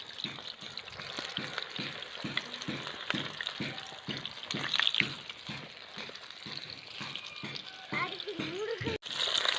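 KFC-style chicken crackles as it fries in hot oil until golden, with a dense sizzle and a regular pulsing bubble close by. Soft stirring and splatter come and go.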